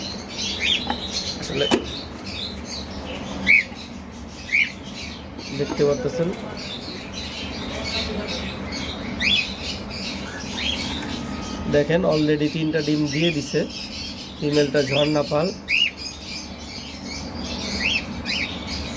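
Pet birds in breeding cages chirp and tweet in short bursts, with a few wing flutters, under someone talking throughout.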